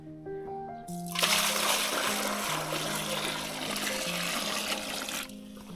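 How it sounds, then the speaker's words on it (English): Fresh water pours into an animal's water bowl in one steady, splashing stream that lasts about four seconds, with soft tonal music playing underneath. "So fresh water now in the water bowl."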